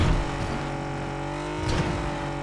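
A buggy engine drones steadily while driving in PUBG on the Miramar map, a loud, continuous motor hum with a slight surge near the end, no talking.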